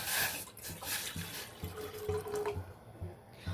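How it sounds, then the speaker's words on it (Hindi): Water, about one cup, is poured into a pot set on a gas stove while making a kadha, a steady close splashing pour that trails off, with no talking. "अभी हमने गैस पे एक बर्तन चढ़ा दिया है, उसमें हम 1 कप पानी डालेंगे"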